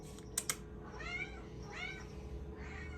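A cat meows several times for canned chicken, up close, with a couple of sharp clicks at the start and quiet background noise.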